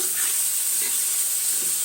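Food frying in a pan, a steady bright sizzle and hiss that stays constant throughout, with a few faint soft stirring or scraping touches underneath.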